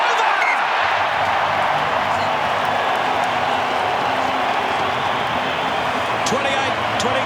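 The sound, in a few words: stadium crowd cheering a successful rugby kick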